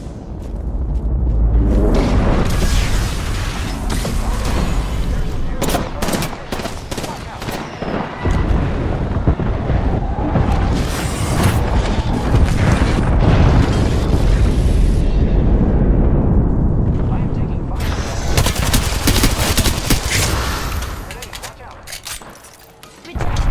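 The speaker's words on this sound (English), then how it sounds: "The enemies are shooting at me." Enemy gunfire in the battle royale shooter Apex Legends comes as dense, loud bursts of rapid shots and booming impacts, nearly continuous, easing off briefly near the end.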